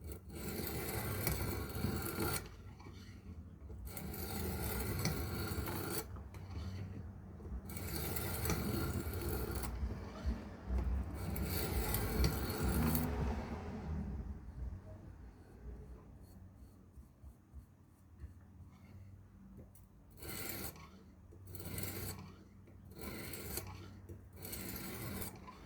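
A knife sharpened on a Xarilk Gen 3 sharpener gives continuous raspy scraping in long rhythmic strokes, near and steady, with short pauses between passes and no talking.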